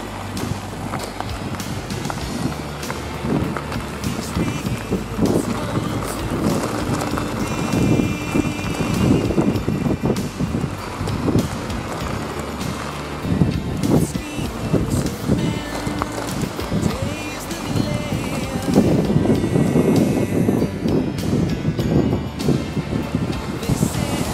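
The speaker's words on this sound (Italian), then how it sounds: "Le raffiche del vento sono talmente forti che è agitato" Strong, continuous wind gusting and buffeting outdoors by Lago del Matese, with rough rushing noise and choppy lake water beneath it, no voices.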